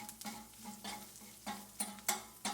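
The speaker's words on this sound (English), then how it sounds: "Stir the sausage up one more time." Sausage stirred as it fries in a pan, each stir a scraping pass over a low steady sizzle, the strokes coming in uneven bursts with sharper utensil clicks near the end.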